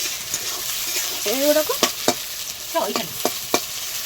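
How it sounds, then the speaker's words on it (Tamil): Chopped onions frying in a pan give a continuous close sizzle punctuated by sharp stirring clinks and scrapes, with a brief voice-like murmur in between. "இப்போ வந்து வெங்காயம் தான் கட் பண்ணி ஃப்ரை பண்ணோம்"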